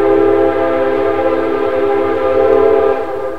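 A cartoon train comes to a stop on the track with a loud, sustained tonal squeal that holds steady for several seconds, with no voices over it.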